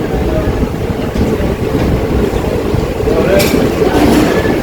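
Steady low rumble of the Ernakulam–Kannur Intercity Express passenger train departing a station in Kerala, continuous and fairly loud, with faint clatter and a brief hiss partway through.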